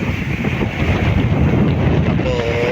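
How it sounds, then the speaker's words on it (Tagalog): Strong wind roars over the sea beside a boat, with waves washing in a loud, continuous rush buffeting the microphone, a faint tonal whine near the end. "So malakas na po ang hangin mga idol. Ayan, kita nyo, hangin at ang alon."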